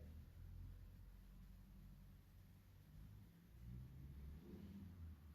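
Faint low rumble of cars passing outside an old abandoned college in Clacton-on-Sea, a distant engine drone swelling and fading twice in a quiet room.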